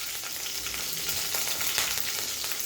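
Curry leaves and green chillies sizzle steadily in hot oil for a Maharashtrian kanda poha tempering, a dense, even frying hiss close up with no voices.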